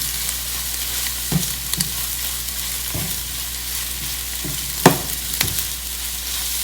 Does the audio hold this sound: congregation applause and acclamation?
no